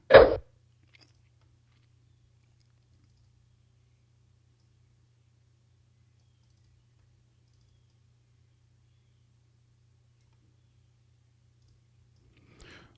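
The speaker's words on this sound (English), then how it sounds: "let's go ahead and click buy" A single sharp computer mouse click at the very start as the buy button is pressed on a trading platform, followed by near silence with only a faint hum and a tiny click at the end.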